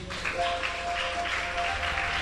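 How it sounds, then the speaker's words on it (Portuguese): A church congregation claps in a steady, moderately distant wash of applause, continuous and even across the short stretch. "e aplauda Jesus Cristo"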